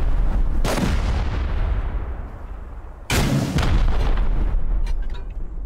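Rocket explosions in a modded raid video game, two loud booming blasts a few seconds apart, each with a long rumbling decay, no talking.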